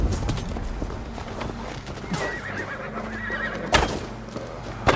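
Horses whinny and neigh over galloping hoofbeats in the video game Assassin's Creed Valhalla. Near, loud calls rise above a rough clatter of hooves, with a sharp burst just before the end.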